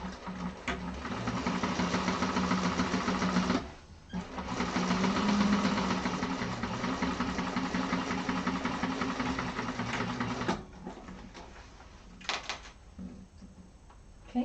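A sewing machine runs steadily for about ten seconds while stitching the lining of a handbag, a close, continuous mechanical whir, then stops and gives way to a few quieter handling sounds.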